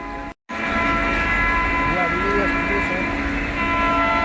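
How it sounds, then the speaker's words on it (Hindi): A Howrah Duronto Express overtakes a MEMU local train at speed, with a continuous loud rumble of rolling stock and a long horn tone, heard from aboard the local as someone speaks over it. "इस पीछे से आ रही है हावड़ा दुरंतो एक्सप्रेस"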